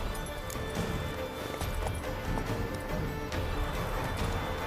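Horse galloping in The Witcher 3, steady rapid hoofbeats under a dense layer of game music and ambient noise, continuous and moderately loud throughout.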